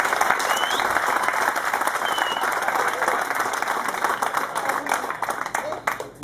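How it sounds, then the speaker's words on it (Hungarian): Applause from an audience at a family day event, steady dense clapping filling the whole stretch, fairly loud and close, with a faint voice briefly heard underneath. "Egy tapsot szerintem nagyon."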